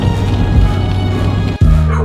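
Stray dogs in a deteriorating Detroit neighborhood, with loud, close barking and yipping over a continuous droning background hum that briefly drops out near the end.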